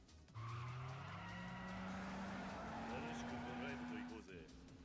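A car drifting in Yakuza 5 lets out a long, loud tire squeal that holds steady for about four seconds, with engine drone underneath, before cutting off abruptly.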